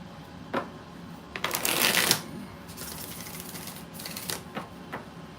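Tarot cards are shuffled by hand in quick riffling bursts, close and fairly soft, with one longer flurry and several short flicks against a quiet background.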